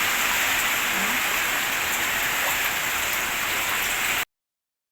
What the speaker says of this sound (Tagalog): lakas naman ang ulan guys